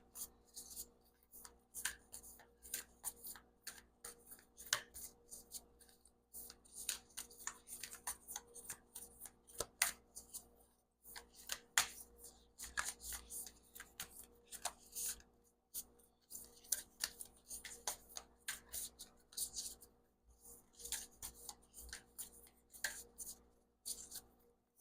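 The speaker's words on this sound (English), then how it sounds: "I'm not the best shuffler, and these cards are really big, so sorry." Oversized tarot cards being shuffled by hand, a steady stream of crisp riffling, rubbing and slapping bursts up close, with brief pauses between handfuls and no voices.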